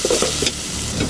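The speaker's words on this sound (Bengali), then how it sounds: "একটু ভাজা ভাজা হবে।" Small pieces of chicken fry in hot oil in a pan while being stirred, a close, loud sizzle broken by quick scraping stir strokes.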